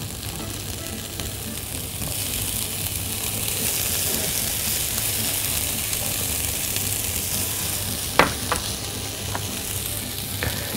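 Mushrooms and colored bell peppers sauté in a pan with a steady close sizzle, and a few sharp clinks of stirring come near the end with no talk.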